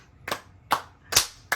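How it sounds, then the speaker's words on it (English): Four sharp hand claps, evenly spaced about 0.4 seconds apart, close and crisp with nothing else underneath, during a casual podcast-style conversation. "Clap."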